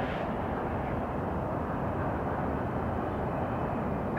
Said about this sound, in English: some hot taxiing action. It's a Boeing 737 operated by Southwest Airlines crossing your computer screen.